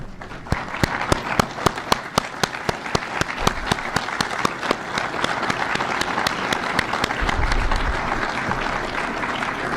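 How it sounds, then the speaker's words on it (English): Applause from the audience at a town meeting, with sharp, distinct claps that settle into dense, steady clapping and continue loudly throughout. "because I think they deserve an applause"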